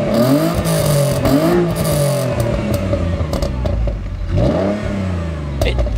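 A Ford Mondeo engine idles high and revs up and down repeatedly, a loud close mechanical drone with rising and falling pitch.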